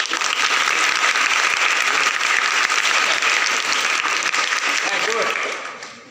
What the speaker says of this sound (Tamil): நமக்கு ஒரு கரகோஷம் கொடுக்க மாட்டீங்களா?